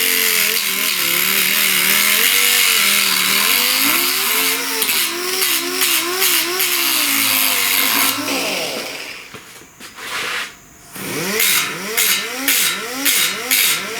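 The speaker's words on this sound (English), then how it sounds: "You don't want to run the grinder wide open like this" Angle grinder run wide open on the upper cowl panel of a 1969 Chevrolet C10 pickup makes a loud, steady whine that wavers in pitch, drops away briefly, then returns in short revving bursts.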